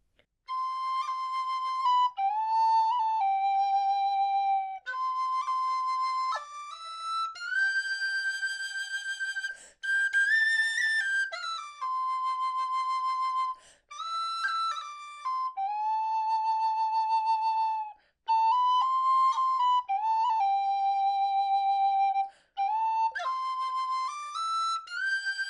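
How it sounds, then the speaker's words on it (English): Aluminium C tin whistle playing the slow air Galway Shawl, a clear, pure, breathy melody of sustained notes with gentle ornaments and short pauses between phrases, close and solo. "let's hear the C whistle"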